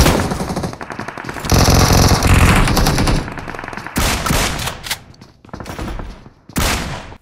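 Gunfire in the mobile game PUBG Mobile during a squad fight, loud dense bursts of shots in rapid volleys with short gaps, some crackling close and sharp.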